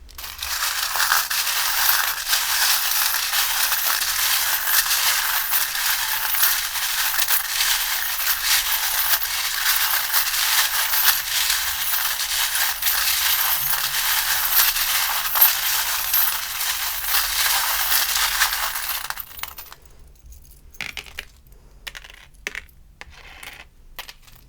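Tarot charms and dice tossed and rattling together in a steady, dense clatter for about twenty seconds, then a few scattered clicks as they settle.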